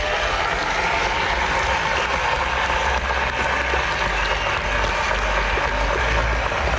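Dense, steady roar of crowd applause at a bull fighting event in Joniškis, Lithuania, continuous broadband clapping throughout with no break, loud and close, with no talking heard.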